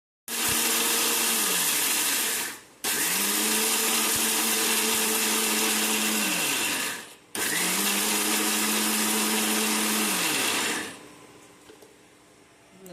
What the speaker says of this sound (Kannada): ಇದಕ್ಕೆ ಸ್ವಲ್ಪ ನೀರು ಸೇರಿಸಿ ನಾವು ಮಿಕ್ಸಿ ಮಾಡ್ಕೊಳ್ಳೋಣ